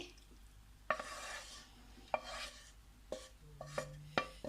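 A spoon stirring fried onions and vegetables into wheat dosa batter in a bowl: sharp clinks against the bowl every second or so, with soft wet mixing sounds between them and no talk.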